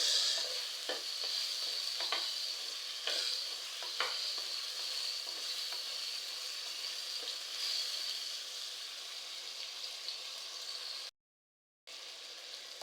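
Chopped tomatoes sauté in oil while being stirred, for a Tamil broad beans curry. A steady, moderate sizzle runs throughout, broken by repeated spoon scrapes and taps, with a brief silent gap near the end.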